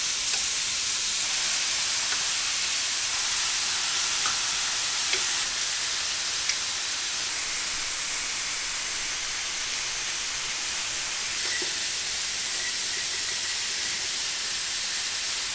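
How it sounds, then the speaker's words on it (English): Marinated steaks sizzle on a griddle, a steady, loud broadband hiss and crackle that continues unbroken throughout, with occasional small pops and no talking. "All right, so we are sizzling."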